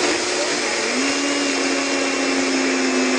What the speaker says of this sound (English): you want to blend some sunflower seeds in the Blendtec blender into an almost powdery consistency